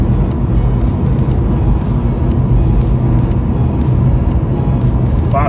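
A Mazda MX-5 drives along on a road, heard from close by as a loud, steady engine and road rumble that continues throughout.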